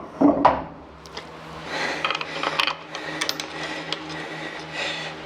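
Metal bolts being fitted and fastened on a high-volume bilge pump assembly aboard a boat, a quick clunk followed by scattered scraping, clicking handling sounds and light rattles, close and moderately loud.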